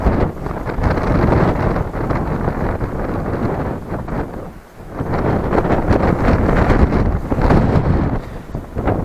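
Strong wind buffets the microphone in loud, rough gusts at a seaside fishing spot, dipping briefly midway before roaring back, with no voices.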